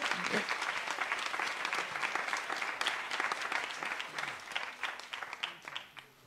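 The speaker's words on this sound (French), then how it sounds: "Les applaudissements!" Applause from the audience at a Grand Raid press conference, dense and steady at first, then thinning into scattered individual claps as it fades out.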